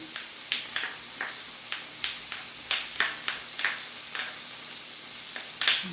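Shrimp, garlic cloves and black peppercorns frying in a hot pan, a continuous sizzle with frequent sharp pops and spits, close and fairly loud, with no talking.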